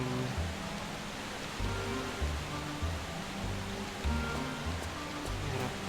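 Steady jungle rainfall from Tomb Raider III's jungle level, a dense, even hiss with a soft low rumble beneath, continuous and unbroken throughout, no voices.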